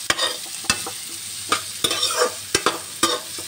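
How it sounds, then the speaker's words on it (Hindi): Onion and capsicum frying in a pan: a low sizzle broken by sharp, regular clicks and scrapes of a spatula against the pan, about a dozen strokes, close up. A single short spoken word is heard. "शिमला मिर्च और प्याज को हल्का सा मैंने रोस्ट कर लिया है, पका लिया है।"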